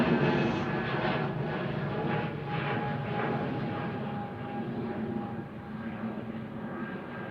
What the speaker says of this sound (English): Third departure of the morning is EasyJet over to Rios, GUZHI, operating 2045.